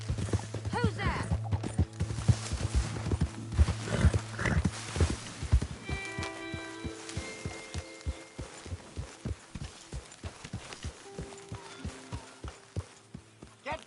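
Horse hooves clip-clop in a steady walking rhythm, close and distinct, in the video game Red Dead Redemption 2. A voice speaks over the start, and a brief musical tone rises in the middle.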